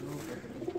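Pigeons of the Indian BMW breed coo in a loft, a soft continuous low murmur of cooing running through the short moment, close by with no talk.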